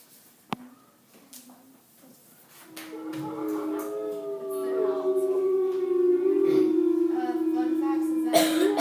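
A gray wolf howls in a long, rising and sustained tone that grows louder and steadier, with a few faint higher overtones, heard alone after a short quiet start with a brief click.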